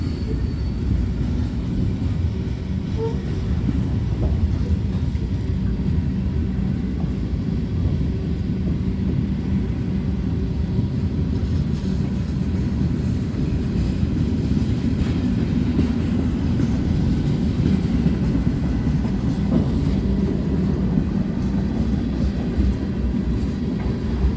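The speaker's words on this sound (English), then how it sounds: "CSX on one of the Q trains." A CSX Q freight train rolls past in a steady, continuous rumble with faint clickety-clack and occasional wheel squeal, moderately loud and unbroken throughout.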